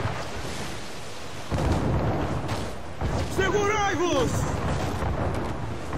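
Cannon fire and impacts on a ship in Assassin's Creed 4 Black Flag, heavy booms and rumbling hits starting partway through, with a voice shouting over the noisy battle.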